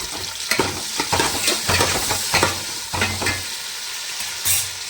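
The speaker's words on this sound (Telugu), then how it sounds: "చక్కగా కోసుకుని ఉల్లిపాయ ముక్కలు మునక్కాయ ముక్కలు మొత్తంగా పోసేసాను" Onion and drumstick (moringa pod) pieces sizzle in a hot pan while being stirred, with a constant frying hiss and repeated scraping stir strokes at a fairly loud, close level.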